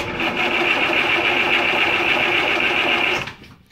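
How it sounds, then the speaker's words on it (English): A starter motor cranks the engine of a 1980 Land Rover Series 3 109 in one steady, loud, continuous whirring burst that runs about three seconds and then cuts off abruptly. "ignition lights are working, starter works, although the starter switch is sticky."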